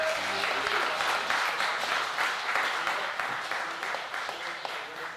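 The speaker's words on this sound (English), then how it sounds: "Give them another round of applause." Audience applause at a talk, a dense, steady roar of many people clapping that continues throughout and fades slightly toward the end.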